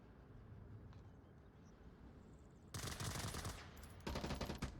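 Bursts of automatic gunfire in the Onward VR multiplayer shooter during a competitive VRML match, two loud sustained volleys after a quieter stretch of low rumbling game ambience.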